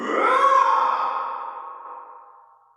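A monster sound effect for a video game: one drawn-out growling roar with small-room reverb, loud at the start and fading slowly over nearly three seconds.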